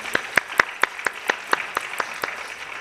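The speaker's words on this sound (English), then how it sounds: "So I'd like to give a, a big warm applause to Valerie Chang" Applause at a COPD coalition education day in Hawaii: about a dozen sharp, evenly spaced claps in a quick steady rhythm, fairly close and moderately loud.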